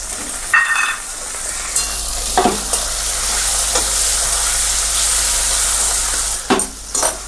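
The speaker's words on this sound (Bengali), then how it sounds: "পেঁয়াজটা এখানে কিন্তু খুব লাল করে ভাজা হবে না, সামান্য একটু নরম হয়ে যাবে" Chopped onion frying in a pan with five-spice seeds and ginger-green chili paste: a steady loud sizzle, broken by a few sharp spatula scrapes near the start and a cluster of stirring strokes at the end.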